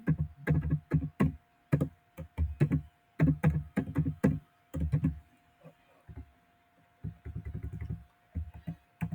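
Bursts of keystrokes on a computer keyboard as a word is typed, clustered taps in quick irregular runs separated by short pauses, close and fairly clear with a faint steady hum beneath.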